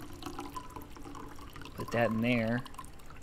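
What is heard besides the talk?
coffee pot being filled with water in video game Routine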